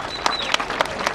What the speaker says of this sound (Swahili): Pigia Jaguar makofi tafadhali.